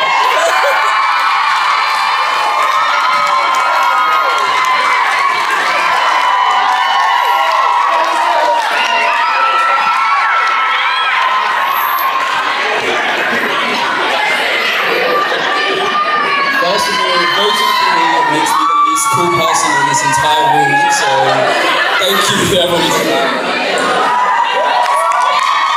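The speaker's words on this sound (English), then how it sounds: "I can hear the table cheering" A table of guests at a medical school awards ball cheers, whoops and shouts loudly and continuously, a dense close crowd roar that holds steady throughout.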